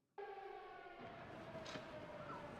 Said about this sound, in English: I can never not do that whenever I hear a siren.